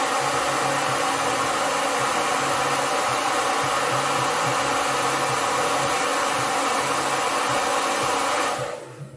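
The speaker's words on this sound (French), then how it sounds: "j'ai un sèche-cheveux assez efficace" A hair dryer blows steadily with a loud, even whir and airy hiss, then cuts off at the very end.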